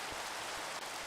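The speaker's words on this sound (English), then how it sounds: "Why is it raining?" Rain falling in the video game Minecraft, a dense, steady hiss of drops with no pauses, even and continuous.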